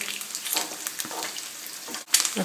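Food frying in a pan on a raised flame while cooking Czech spinach sauce, a soft, fairly faint crackle and sizzle with scattered pops, close by and with no talking.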